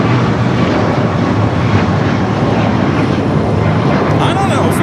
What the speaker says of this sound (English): we got Royal Air Morocco heading back to Casablanca. The Dreamliner rolling down